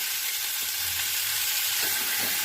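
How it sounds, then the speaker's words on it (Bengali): Turmeric and cumin powder fry with chopped tomato in a hot pan, giving a loud, steady, continuous sizzle close up, with faint stirring movements underneath. "ভালো করে কষিয়ে নেব"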